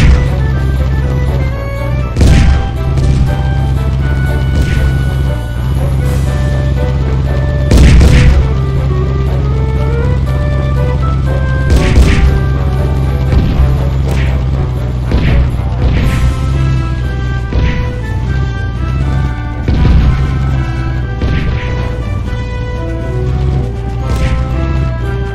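Cartoonish tank cannon shots from the game Toon Wars, a series of loud booming blasts at irregular intervals over a continuous game music and engine bed, no speech.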